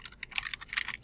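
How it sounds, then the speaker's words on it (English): Quick, uneven clicking of keys on a computer keyboard during a math lecture, fairly soft and close, a brisk run of a dozen or so keystrokes with no talking over it. "While I'm typing this out"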